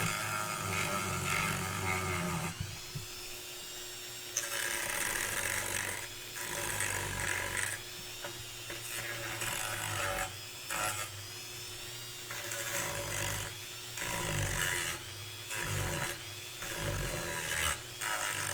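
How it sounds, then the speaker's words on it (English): Sanding an Iron Man costume prop with a power tool produces repeated rough grinding bursts with short pauses between them, loud and close, with no talking. "Sanding. Sanding."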